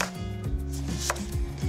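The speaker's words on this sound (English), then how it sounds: "As these are quite large, I'm going to cut them in half, just into some thin slices." Large heirloom tomatoes being cut into thin slices with a knife, a few crisp chops against a board over background music.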